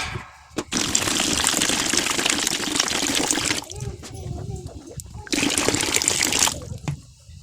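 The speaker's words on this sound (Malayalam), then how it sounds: "അപ്പോൾ ഇതിലേക്ക് നമുക്ക് വെള്ളം ഒഴിക്കാം." Water gushes into a plastic bucket in two loud, steady pours, with a short pause between them while someone speaks.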